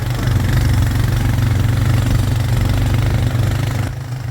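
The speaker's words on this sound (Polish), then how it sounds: "Motorcycle, that one." A motorcycle engine idles close by in Tanzania, a steady low rumble with a constant throb that continues for about four seconds before dropping off near the end.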